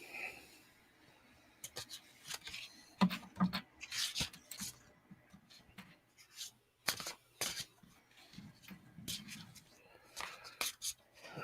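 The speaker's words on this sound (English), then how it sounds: "I'm shuffling. Every day I'm shuffling." Oracle cards being shuffled by hand during a card reading, a run of soft papery riffles and slides in irregular bursts, close and fairly quiet, with faint talk and breathing between them.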